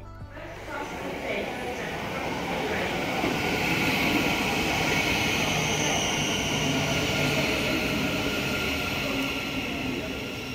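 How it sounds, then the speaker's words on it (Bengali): A passenger train pulls into a London station platform, a broad rumbling roar swelling and holding steady as the carriages roll in nearby. "আর এই যে আমাদের ট্রেন চলে এসেছে।"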